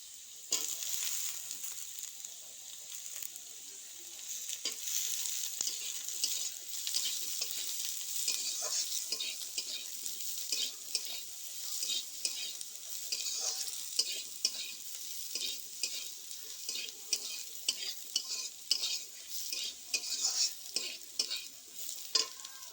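Soaked soybean chunks frying in a pan, a quiet steady sizzle with repeated scraping stir strokes that grow more frequent toward the end.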